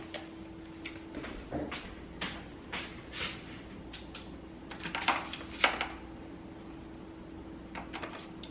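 Dishes, pots and pans are washed up in a home kitchen: sparse, faint clinks and clatters come at irregular moments over a quiet background hum, with no talking.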